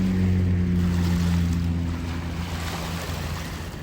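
Strong current of the St. Clair River heard from a boat, a steady broad rush of water and wind with a low engine drone underneath, loud and continuous, easing slightly toward the end.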